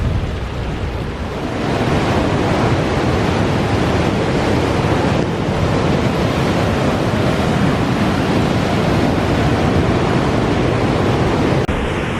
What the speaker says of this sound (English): Sea's getting rougher.